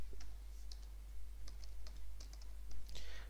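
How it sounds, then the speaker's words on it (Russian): Quick, crisp keystrokes tap on a computer keyboard in short irregular bursts, close and fairly loud over a low steady hum, ending with a slightly busier flurry of clicks. "Нажимаем клавишу Windows плюс R на клавиатуре и вводим msconfig."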